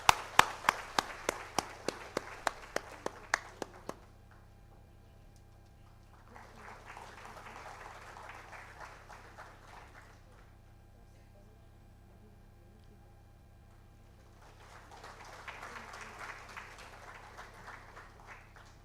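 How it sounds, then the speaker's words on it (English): Applause breaks out at a Silver Jubilee celebration function, following a string of sharp taps: two moderate, fairly distant bursts of clapping separated by a quiet gap. "A big round of applause, please"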